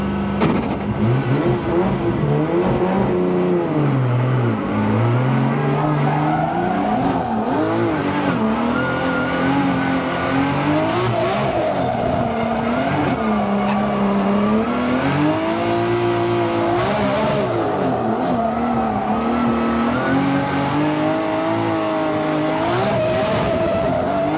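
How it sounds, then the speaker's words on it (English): A Toyota Formula Drift race car runs a lap, its engine revving loudly and continuously with rising and falling pitch, bursts of tire squeal and skidding throughout, close to the listener. "Gonna go out and do a lap with Freddy Aasbo."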